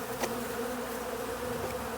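Honey bees buzz steadily and densely around a hive during a heather honey harvest, a continuous close swarm drone with no voices.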